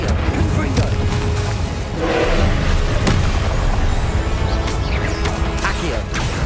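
Fiery Confringo spell blasts in the Hogwarts Legacy video game, a dense run of booming impacts and crashes layered over continuous game noise and spoken incantations.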